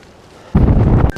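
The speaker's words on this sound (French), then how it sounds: "et il y a un vent" A strong gust buffets the microphone while a rider cycles on gravel in rain, a sudden loud, low rumbling roar that starts halfway through and lasts about half a second before easing.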